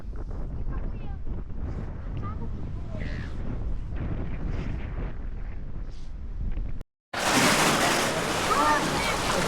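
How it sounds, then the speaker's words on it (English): Ocean surf rolls in at a windy beach, a continuous wash of waves with wind buffeting the microphone, rising to a loud roaring rush near the end after a brief dropout. "Oh, look how much waves there are back here."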